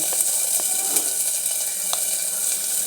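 Dal with a little salt and turmeric sizzles steadily in a pot for oats khichuri, a continuous close hiss with faint crackles and a few soft pops, no voices.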